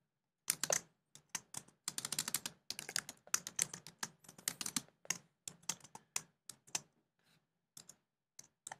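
Quick bursts of key clicks on a computer keyboard, typed in short irregular runs with brief pauses, close and fairly quiet, no voices.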